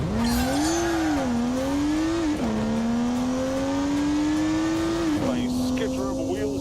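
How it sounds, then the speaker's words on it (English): A car engine revving hard in The Grand Tour video game, its steady loud tone rising and dipping through gear changes, with wheel spin and tyre noise underneath and a voice talking briefly. "Nice skitter of a wheel spin"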